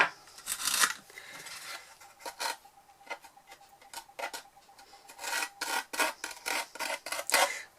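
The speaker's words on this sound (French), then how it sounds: "avec le manche de la cuillère. Vous allez enlever le maximum de colle tout autour." The handle of a spoon scrapes leftover glue from a surface in quick, uneven rasping strokes, some bunched in rapid bursts, close and fairly quiet with no voice.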